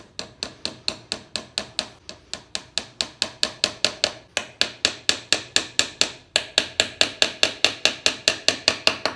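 A hammer drives a small nail into fragile wood, about thirty sharp, evenly spaced blows in quick succession with two brief pauses, each strike close and crisp.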